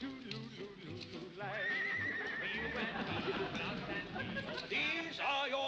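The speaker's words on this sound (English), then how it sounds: "The horse is a noble, faithful, and obedient animal." A horse whinnies and neighs repeatedly alongside clip-clopping hooves, with voices talking over the scene at moderate volume.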